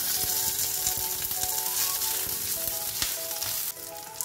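Green chillies and curry leaves fry in oil for rasam, a loud close crackling sizzle that runs continuously and eases slightly near the end.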